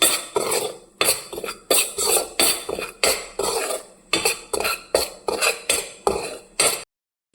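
Spoon scraping and clinking against a metal pot while mixing spice powder and salt for a kilimeen fish curry, a regular series of about a dozen sharp knocks with brief stirring scrapes between them, close and isolated.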